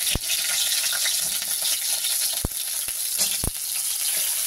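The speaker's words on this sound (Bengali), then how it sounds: "আলু ফুলকপিগুলো আগে ভেজে নিই।" Potatoes and cauliflower fry in a hot pan with green chillies, giving a steady bright sizzle throughout, with a few sharp clicks of a spatula or pan scattered across it and no talking.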